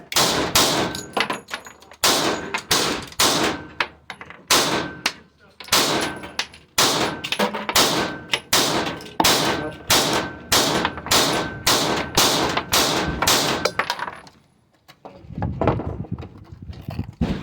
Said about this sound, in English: that was the first 50 rounds through the FN Reflex XL. That was the Winchester 115 grain full metal jacket.